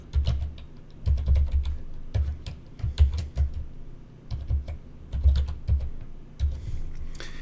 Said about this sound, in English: I'm going to type a demo password